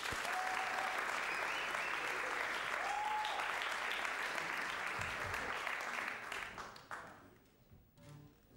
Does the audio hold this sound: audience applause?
yes